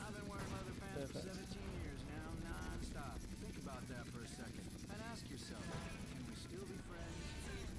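Attack helicopter in GTA San Andreas: a steady rotor drone runs throughout, low and constant beneath a thin high whine, while music and a voice talking sit on top of the engine noise.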